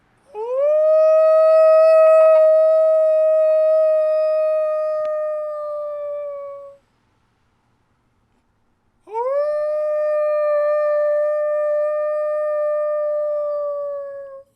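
People in Missoula howl like wolves at night, an 8 p.m. tribute to frontline workers. Human voices imitate wolves in two long, loud, sustained howls, each lasting several seconds with a rising start, separated by a brief silence.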